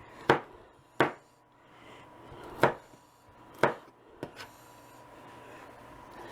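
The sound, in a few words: chopping food for cheeseburger bake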